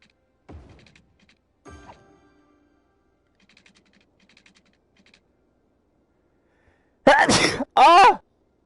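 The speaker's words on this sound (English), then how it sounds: "I sneezed." Two loud, close sneezes burst out in quick succession after a long quiet stretch with a few faint, scattered computer keyboard taps.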